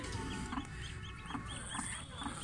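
A broody hen near her freshly hatched chicks clucks in a steady, evenly spaced series of low clucks, several in a couple of seconds, close by over a faint background hiss.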